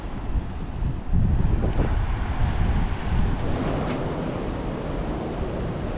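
Ocean waves roll onto a beach in Tayrona National Park, Colombia, a continuous rushing surf with heavy wind noise buffeting the microphone.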